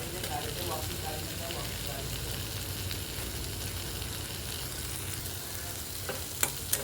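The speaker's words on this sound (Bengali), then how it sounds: "এই সয়াবিনটাও বেশ ভাজা হয়ে গেছে" Soybean chunks and pieces of boiled potato frying in oil, a dense continuous sizzle with occasional stirring clicks near the end.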